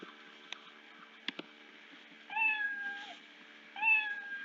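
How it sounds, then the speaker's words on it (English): A cartoon cat meow sound effect plays twice from the Scratch coding program, each a clear rising-falling meow, preceded by a few soft clicks in an otherwise quiet room. "So every time it touches the mouse pointer, it'll play the sound meow."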